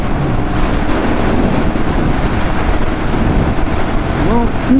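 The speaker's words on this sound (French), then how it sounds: "Il y a du bruit là. Hein. Il y a du vent." Wind buffeting a GoPro microphone outdoors, a loud constant low roar filling the whole stretch, with a faint voice briefly audible near the end.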